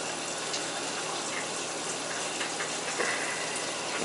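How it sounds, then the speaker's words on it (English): Water gushes steadily out of a hydronic heating purge station as a winterized house's heating system is refilled, a loud, continuous broadband rush with no talking. "So that's a good flow of water."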